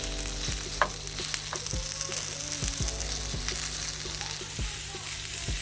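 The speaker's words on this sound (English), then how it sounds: "when the chorizo cooks down, a bit of oil will come out of that" Chorizo sizzles and spits in a hot pan as its oil renders out, a close, steady crackle punctuated by sharp pops and occasional spatula scrapes.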